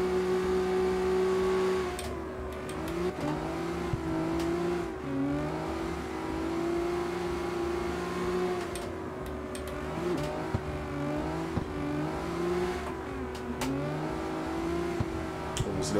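CarX Street S18 drift car engine holding a steady drone, then revving and dropping repeatedly in short rising pulls, close and fairly quiet with no talk over it.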